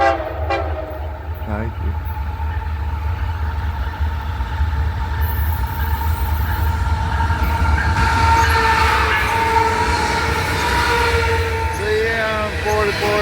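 CP locomotives hauling a coal train, heavy diesel rumble and clanking railcars rolling past steadily and loud, with sustained horn blasts ringing out and a brief spoken word early on.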